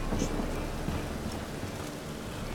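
Rain falling with low rumbling thunder during a stormy scene in the video game The Witcher 3: Wild Hunt, a steady dense hiss of downpour filling the whole moment with no break.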